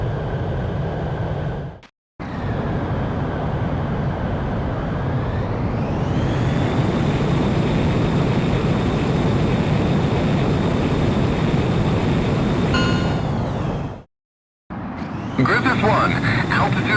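Jet fighter in Ace Combat X: Skies of Deception roaring through a takeoff run, a loud steady engine wash whose pitch sweeps upward midway, broken by two brief silences.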